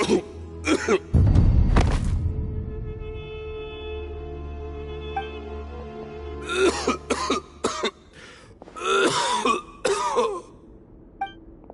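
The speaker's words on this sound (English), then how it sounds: "Why is he coughing so much?" A man coughs and clears his throat in rough bursts over a quiet synthetic drone in Genshin Impact, with scattered thumps and a sustained tone in between.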